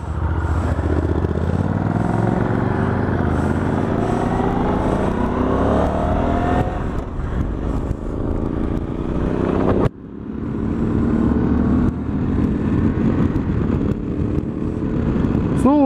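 Motorcycle riding on the road to a 2018 motovlog meetup, engine droning loud and steady throughout with rising and falling pitch as it accelerates and shifts, strong wind rush, and a brief dip near the middle.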